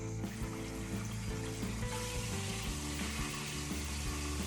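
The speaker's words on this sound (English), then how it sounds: "Start by filling up your tub with hot water." Hot water runs from a tap into a tub in a continuous, fairly quiet rushing stream with a steady hiss, heard alone without talk.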